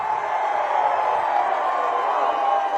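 A large open-air crowd at a political party public meeting keeps up a steady, loud roar of clapping and cheering, unbroken from start to finish.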